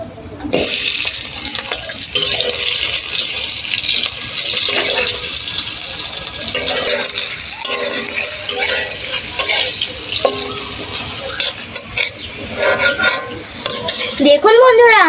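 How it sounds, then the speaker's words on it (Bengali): Chopped onions fry in hot oil in a kadai for chicken biryani, a loud, constant sizzle broken by spatula scrapes and stirring clatter that carries on for about fifteen seconds. "এখন আমি পেঁয়াজটাকে ভেজে নেব"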